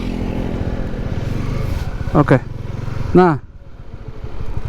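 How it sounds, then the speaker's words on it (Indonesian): A motorcycle goes by on a road near the Jatigede reservoir in Sumedang, heard over the steady engine drone of a ridden Honda CB150R, while someone talks throughout. "Ada motor nih."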